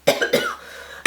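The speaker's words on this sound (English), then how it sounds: "I'm going to cough." A woman with a cold coughs twice in quick succession, close and fairly loud, followed by a short pause and the start of another sharp sound at the end.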